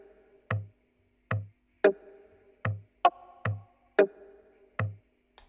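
Hollow conga hits land in a loose repeating pattern, each with a short tail of reverb ringing after it, alone and fairly quiet.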